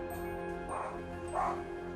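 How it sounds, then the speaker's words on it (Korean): A dog spinning after its tail gives two short, muffled growling barks about half a second apart over a steady background hum, fairly faint and nearby. "얘가 이렇게 으르렁거리면서 공격적으로 돌기 시작한 건"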